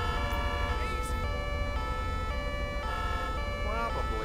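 A French VSAV ambulance siren in GTA 5, a steady two-tone wail repeating in even alternation over a low engine rumble, fairly close and continuous.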